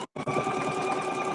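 A sewing machine stitches steadily and close by, a rapid mechanical whirring hum that starts after a brief gap and runs without pause.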